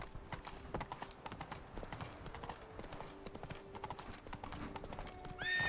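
The hooves of Roach, a horse in the video game The Witcher 3: Blood and Wine, beat out a steady, rapid clip-clop over game ambience, with a brief whinny near the end.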